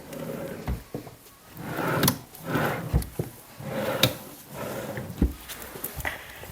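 A wooden drawer in the armrest of an Oskar sofa by Mamomebel, with a chipboard trim in Sonoma truffle oak, slides open and shut several times, giving close, sharp knocks and rubbing slides with no talking.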